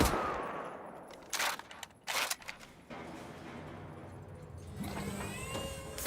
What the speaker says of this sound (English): Forgot about that bouncing Betty motherfucker.